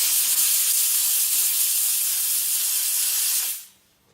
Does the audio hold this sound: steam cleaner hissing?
yes